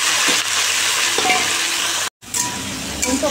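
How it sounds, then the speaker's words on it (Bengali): Black cumin seeds and green chillies temper in hot oil with a loud, close, steady sizzle and crackle, briefly cut off for a moment before the frying resumes. "কালো জিরে দিয়ে আর দুটো কাঁচা লঙ্কা ফোড়ন দিয়ে দেবো"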